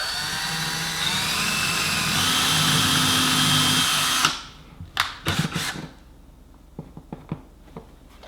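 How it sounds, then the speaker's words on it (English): A power drill runs steadily for about four seconds boring a hole through carpet into the floor cavity below, then cuts off, leaving several sharp clunks and scattered light taps nearby. "I'm gonna go ahead and drill a hole straight through the carpet into the cavity below"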